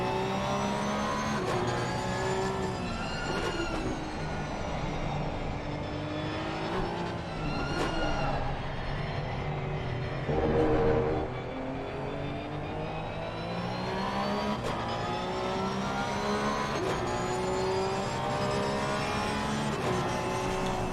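Porsche 992 Cup race car in a racing video game at Zandvoort, its engine droning steadily with rising and falling revs through gear changes, loud and continuous throughout.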